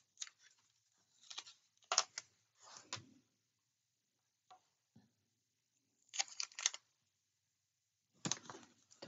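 Adhesive tape is pulled off and pressed down on a paper-craft recipe folio. Short, crisp ripping bursts come in several separate clusters with quiet gaps between them, close and fairly soft, and no voices are heard.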